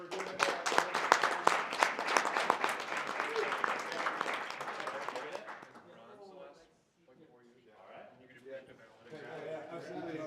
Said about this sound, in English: can we just do a big round of applause for these guys for doing it?